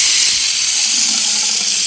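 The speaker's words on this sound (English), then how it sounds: "cut that water on, right?" A sink tap runs in a steady, close, loud hiss of flowing water for a couple of seconds, with no voices.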